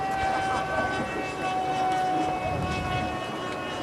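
A VisionAire Vantage RC model jet airplane flying at a demo, a steady loud turbine roar with a sustained whine, a voice talking underneath.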